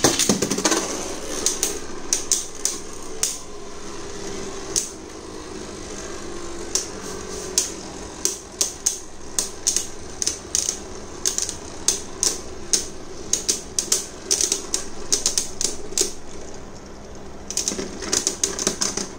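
Beyblade Burst tops Geist Fafnir and Cho-Z Spriggan battling in a stadium, rapid irregular sharp clicks and clacks of spinning tops colliding over a continuous whirring hum, close and without talk.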